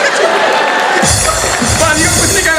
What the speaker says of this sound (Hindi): गोलमाल के लिए जोरदार तालियां